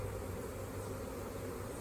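A honeybee swarm containing drones hums steadily while being hived from a nuc into a 10-frame medium hive, a continuous low buzzing drone with no pauses.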